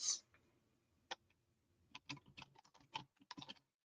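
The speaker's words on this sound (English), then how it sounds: "my clicky clacky keyboard" A clicky computer keyboard being typed on in bursts: a lone key click, a pause, then a quick uneven run of crisp clacks, close and fairly quiet in an otherwise silent room, no voices.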